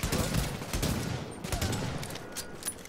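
Gunfire in the video game The Division comes as a quick volley of sharp shots over a couple of seconds, moderately loud and up close.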